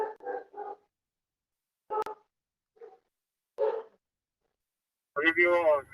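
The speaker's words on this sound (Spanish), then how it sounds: "Apaguen el micrófono que yo escucho a su perro." Dog barking heard through a microphone during an online class, a few short clipped barks in quick bursts with silent gaps between, ending in a louder distorted burst at the end.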